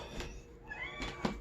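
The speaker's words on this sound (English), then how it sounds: "Somebody's meowing." A house cat meows to be let outside, two drawn-out indoor cries about a second apart with a soft knock between them.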